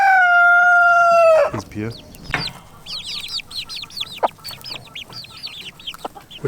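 Maran cockerels crow loudly up close, followed by hens clucking repeatedly in a farmyard, with a voice speaking briefly under the birds.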